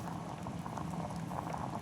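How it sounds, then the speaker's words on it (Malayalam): Mushroom soup boiling steadily in a pot, a close, continuous bubbling and fizzing that holds an even level throughout, with no voices. "നല്ല തിളച്ചോണ്ടിരിക്കുന്നുണ്ട്."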